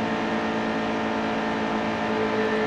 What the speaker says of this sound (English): Get a listen to that engine sound.